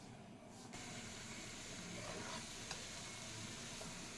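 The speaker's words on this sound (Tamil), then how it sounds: "சிக்கனை வந்து நல்லா எண்ணெயில் ஃப்ரை பண்ணிக்கலாம்." Chicken sizzles and fries in hot oil with masala spices, a steady close-up crackle and hiss running evenly throughout with occasional stirring.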